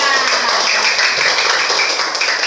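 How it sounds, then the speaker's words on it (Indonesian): A classroom of students breaks into continuous applause, a dense wash of many overlapping claps held steady and fairly loud throughout. "tepuk tangan buat kita semua"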